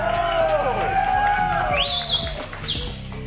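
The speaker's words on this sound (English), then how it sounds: "He brought his own cheering section." A studio audience cheers and whoops loudly throughout, with a high whistle rising through the crowd noise near the end.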